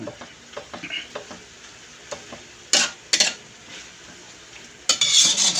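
Garlic and ground meat browning in a pan for picadillo, a soft steady sizzle with scattered stirring clinks and scrapes of a utensil, plus a few louder bursts of hiss, close by and without talk.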